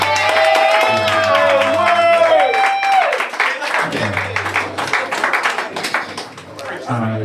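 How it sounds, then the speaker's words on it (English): Audience applause at a live writing-session event: a crowd clapping steadily under a voice and tonal, musical sound, lasting several seconds. "Give her a round of applause."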